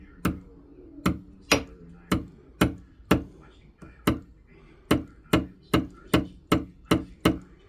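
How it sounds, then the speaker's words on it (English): A steady series of sharp metallic taps from a ball peen hammer on metal, about fifteen strikes at a brisk, slightly uneven pace, each ringing briefly with no talking over them. "I want to tap the sides a little bit on here. So I need to find my ball peen hammer"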